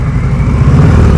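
A motorcycle engine rumbles loud and close during slow-speed riding practice, a sustained low growl as the throttle opens.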